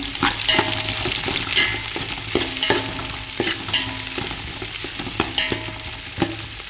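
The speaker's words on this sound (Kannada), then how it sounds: "ಆಮೇಲೆ ಎರಡು ನೀರುಳ್ಳಿ ಕಟ್ ಮಾಡಿ ಇಟ್ಕೊಂಡಿದ್ದೇನೆ ಇವಾಗ ಅದು ಫ್ರೈ ಮಾಡ್ಕೊಳ್ಬೇಕು ಚೆನ್ನಾಗಿ ಫ್ರೈ ಮಾಡ್ಕೊಳ್ತೇನೆ" Two chopped onions frying in a pan for Kundapura-style kori rotti, with a steady close sizzle broken by regular scraping stirs of a spoon, no voices.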